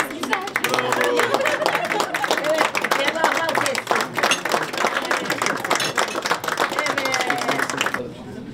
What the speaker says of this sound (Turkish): ben alkışlayacağım